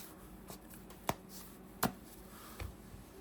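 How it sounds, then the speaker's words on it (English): A Yu-Gi-Oh trading card deck being shuffled by hand, with a few sharp riffling snaps spaced about a second apart against quiet background noise. "So, we shuffle, but we'll shuffle again really quick"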